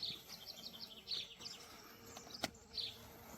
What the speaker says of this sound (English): All the bees are out right now.